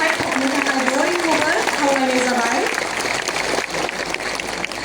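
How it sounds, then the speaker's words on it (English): Audience clapping at the 18th Upendra Nath Brahma Soldier of Humanity Award ceremony, a continuous crowd applause heard beneath a speaking voice and a brief melodic tone. "I would like to request our house to give a more thunderous clapping."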